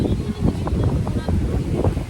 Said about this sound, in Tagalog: tinatangay ako ng hangin, di. Ang lakas.